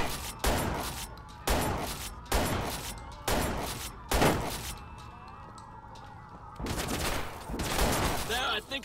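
Gunfire in the Watch Dogs video game during a gun store standoff, with about five sharp bursts at a steady pace, a quieter stretch, then sustained shooting near the end.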